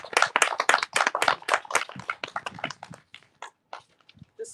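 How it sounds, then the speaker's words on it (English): A small group claps at an outdoor Pride Week flag raising. The sharp, close hand strikes start thick and lively, then thin to a few scattered claps before dying away. "So a big round of applause for that"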